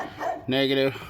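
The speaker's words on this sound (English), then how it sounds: "Sorry about the dog barking." A single short, loud dog bark sounds close by and cuts across a voice as he speaks about connecting a TOPDON BT300P battery tester.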